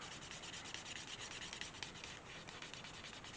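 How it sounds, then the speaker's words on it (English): A burnishing tool rubs the moistened leather edges of a holster with a quiet, continuous, even friction sound, close by and with no voices. "I'm going to burnish those ends"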